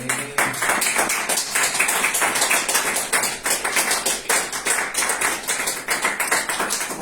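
A church congregation applauding Jesus Christ with loud, steady, rhythmic clapping that continues without a break for several seconds.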